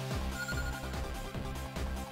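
Ringing cell phone in a Yu-Gi-Oh! 5D's Stardust Accelerator game, a loud, steady electronic ringtone melody with repeating tonal phrases over game music, no talking.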